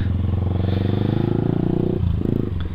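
A motorcycle engine during an MT15 versus Duke 200 drag race, a close, steady throbbing drone that shifts pitch partway through as the bike passes.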